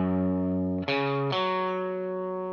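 Electric guitar with distortion playing a short slow-blues lick: three sustained, buzzing notes that slide and ring loud and alone, fading slightly at the end.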